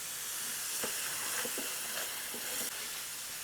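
Big Mac sloppy joe ground meat cooks in a pan with a steady, close sizzle and hiss. A few soft knocks or stirring taps break through, and nobody speaks.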